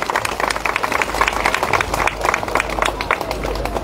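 Audience clapping and applauding at a live concert in Durgapur, a dense, steady burst of many hands lasting a few seconds, loud and close with faint crowd murmur underneath.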